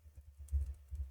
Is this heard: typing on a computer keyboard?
yes